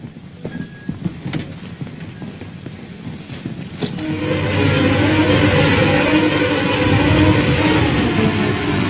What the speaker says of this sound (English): Well, that's my dad's car.